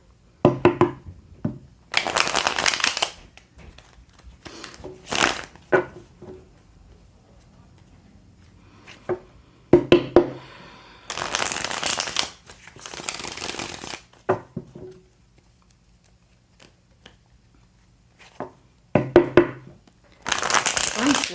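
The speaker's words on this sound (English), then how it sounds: "30 seconds while I shuffle" Tarot cards are shuffled by hand in loud, crisp bursts of riffling and flicking, several separate rounds separated by short pauses, with soft handling noises in between.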